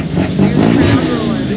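The engine of an old 1997 Ford pulling truck idles and rumbles as it warms up at a packed pulling event, loud and close, with a voice talking over it.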